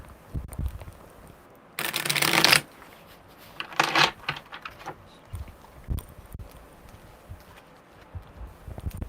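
Tarot cards are riffled and shuffled in two short bursts, the first loud and close, then quieter handling taps and soft shuffling noises with no talking.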